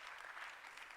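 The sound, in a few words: audience applause in hall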